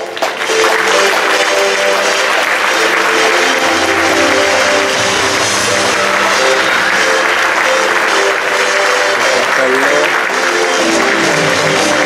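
A crowd at a mayor's New Year reception applauds the Troyes football club's players, staff and volunteers, a loud, dense wash of clapping that carries on steadily throughout.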